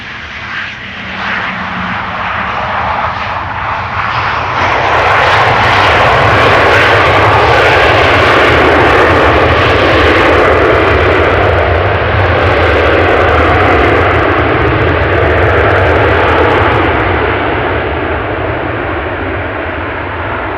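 Jet airliner arriving at Amsterdam Schiphol Airport, its engine roar building quickly from a distant rumble to a loud, sustained broadband blast that holds for many seconds before easing slightly as it passes.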